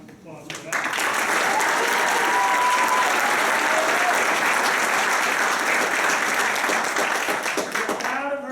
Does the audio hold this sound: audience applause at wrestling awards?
yes